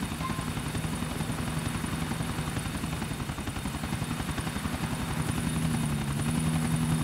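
A helicopter in Grand Theft Auto IV flies with a steady, loud rotor drone and engine whine that fills the whole stretch without a break, and no one speaks.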